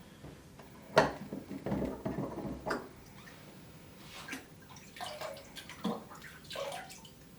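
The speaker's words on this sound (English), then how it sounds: "give it an extra rinse in fresh water to ensure there's no salt contamination" Fresh water rinses over the rotors of a Sublue MIX underwater scooter, giving splashing, trickling bursts with a few sharper splashes among softer running-water sounds, close by and with no voices.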